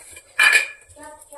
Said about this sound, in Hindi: ये देखिए मैं सारे को इसमें खलवाटा में इसको कूटूंगी